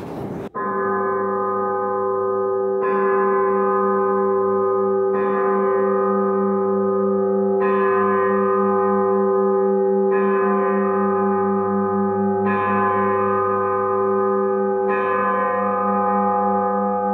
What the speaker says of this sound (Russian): До 2005 года этих колоколов здесь не было